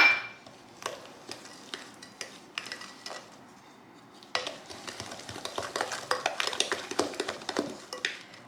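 An egg is mixed into chocolate chip cookie dough in a bowl, with soft, irregular clicks and scrapes of the utensil that turn into a steady run of quick stirring taps in the second half, close and quiet.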